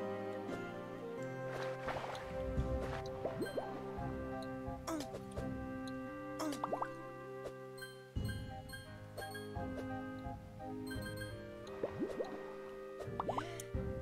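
Bubbles from a fish in the video game Flynn Son of Crimson come as a steady run of soft drips and plops over a layered game music score with faint ticking, quiet and even throughout.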